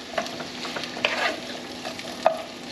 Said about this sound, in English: I'm gonna just throw it in there. Get a little psh. I like that sound.